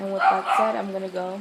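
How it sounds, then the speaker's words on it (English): A dog barks and yips close by indoors, in short bursts beneath someone speaking. "Sorry for the annoying dog barking"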